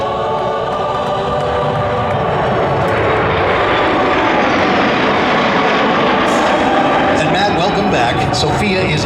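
A NASA F-18 jet roars past at an airshow at Edwards Air Force Base, a loud continuous broadband engine rush that stays strong throughout, with crowd noise and voices underneath.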